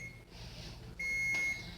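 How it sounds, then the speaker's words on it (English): Kitchen timer beeping in a home kitchen while cooking, a short thin electronic tone followed by a longer, louder steady beep that stops cleanly, over a low background hum. "Now that the timer has ended,"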